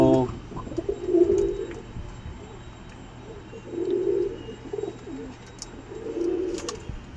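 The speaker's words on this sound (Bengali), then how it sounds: "এই যে পায়রাগুলো দেখতে পাচ্ছেন অনেক কষ্টে বানানো হয়েছে।" Competition pigeons coo in three low, rolling bursts spaced a few seconds apart, moderately close, over a steady murmur of background noise.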